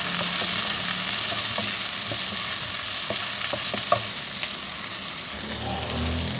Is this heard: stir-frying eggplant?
yes